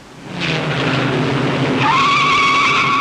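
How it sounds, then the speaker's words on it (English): Race cars spin out at the 1957 Indianapolis 500. The tires shriek in a loud, sustained skid that rises to a high, steady squeal over roaring engines, with no talking. "2 cars spin."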